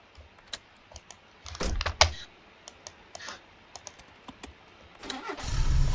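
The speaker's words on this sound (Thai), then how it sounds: "รถสตาร์ทติดที" A car engine starting in the driving game Untitled Trip Game: a brief crank and catch at the end, following scattered keyboard-like clicks and a short burst of engine noise earlier, with no talking.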